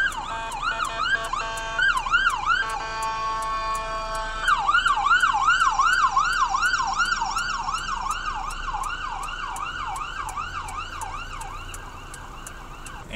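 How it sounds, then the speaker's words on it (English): An ambulance siren wails in fast rising-and-falling cycles, moderately loud and steady as the vehicle passes, with a faint pulsing rhythm and low road rumble beneath. "Ambulance."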